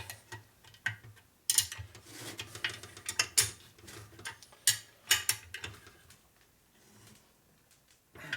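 A socket ratchet tightens the engine case bolts on a 1961 Harley-Davidson Sportster XLCH during a transmission and motor rebuild, giving close, irregular bursts of sharp clicking with short quiet gaps between strokes.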